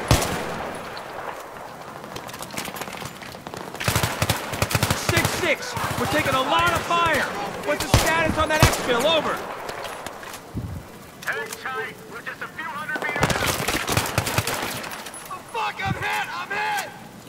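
Bursts of Battlefield 3 gunfire in co-op play, several separate volleys of shots spread through the stretch, mixed with ongoing talk between players.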